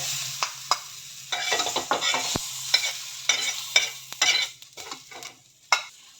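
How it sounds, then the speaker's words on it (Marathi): Tomatoes roast and sizzle in a pan while a spoon stirs them, giving irregular scraping strokes and clinks over a steady frying hiss, close and fairly loud, with no talking. "तर टोमॅटो हे थोडंसं नरम पडेपर्यंत त्याला भाजून घ्यायचं."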